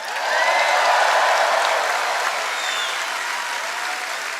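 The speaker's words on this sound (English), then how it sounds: "let's give them a roaring sound of applause" A large crowd at a Trump rally in Lewis Center, Ohio bursts into sustained, dense applause that stays loud and steady throughout, with a faint murmur of crowd noise beneath.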